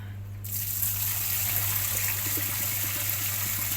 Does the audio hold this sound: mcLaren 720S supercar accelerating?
no